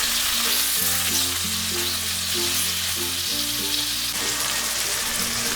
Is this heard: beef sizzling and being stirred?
yes